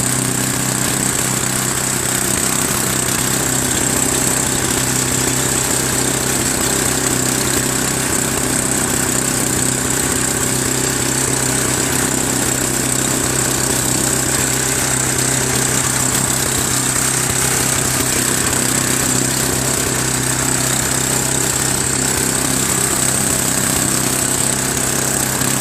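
A Craftsman 28-inch snowblower with a 9 HP Tecumseh engine runs steadily and loudly at close range, a constant droning engine note with no breaks throughout.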